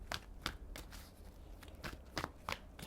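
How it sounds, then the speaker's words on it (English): Tarot cards are shuffled by hand, giving a series of faint, crisp riffles and slaps in irregular bursts against quiet low background rumble. "Let's shuffle the cards."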